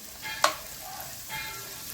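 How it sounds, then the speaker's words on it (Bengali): Garlic, grated ginger and onion fry in oil in a pan as they are stirred, with a sharp metallic scrape near the start and a gentle frying hiss throughout. "খুব ভালো মতো ফ্রাই করে নিচ্ছি।"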